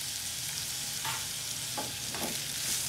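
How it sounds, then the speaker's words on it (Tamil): Onions fry for a homemade sambar, a steady hiss and sizzle in the pan with a few soft scrapes of stirring. "உப்பு போட்டால் தான் வெங்காயம் டக்கண்டு வரும். வெங்காயம் டக்கண்டு பொரிப்படும்."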